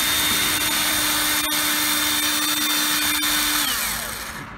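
A power drill with a bigger bit enlarges holes for a truck cab light, whining at a steady high pitch, loud and close, then slowing as the motor winds off at the end.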